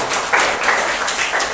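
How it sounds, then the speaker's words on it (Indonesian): Applause for students in a classroom: a steady burst of many hands clapping together, fairly loud and continuous throughout, with no speech over it. "Itu tepuk tangan untuk siswa."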